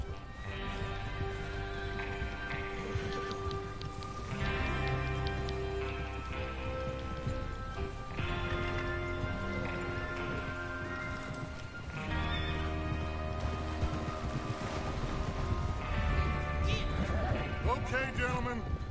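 Horses neigh and whinny over pounding hooves as they gallop in the video game Red Dead Redemption 2, with a busy, continuous outdoor soundscape and occasional voices underneath.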